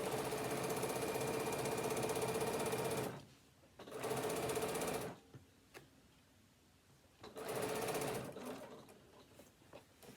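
A sewing machine stitches a fabric tablet holder in three bursts of fast, steady whirring, each a second or more long, separated by quiet pauses with small clicks as the work is adjusted.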